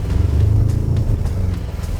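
A Ford Raptor's exhaust gives a deep, throbbing rumble during fast driving, loud and continuous with a pulsing low drone and slight rises in engine pitch.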